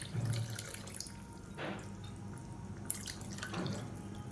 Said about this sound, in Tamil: இப்போ குக்கரை அலசிட்டு கொஞ்சமாக தண்ணி சேர்த்துக்கலாம்